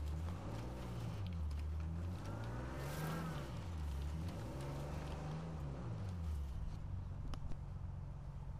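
A Jeep engine drives along in Uncharted 4, loud and steady and close. It rises and falls in smooth, repeated revving sweeps throughout, with no voices.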